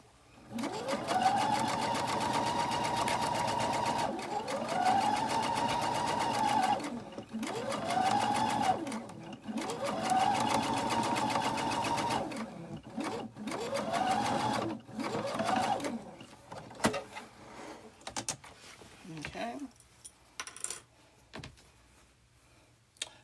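A sewing machine runs over pressed quilt seams in a series of close, rapid stitching bursts with repeated rising motor whines, then short stop-start runs and quiet gaps toward the end.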